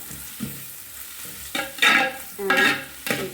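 Garlic sautés in a pan for a boti curry, with a low sizzle broken by several loud scraping stirs of the spatula, close up and with no talking.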